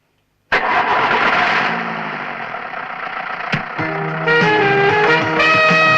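A vehicle engine turns over abruptly and catches, settling into a steady running note that shifts in tone, close by and loud with no one talking.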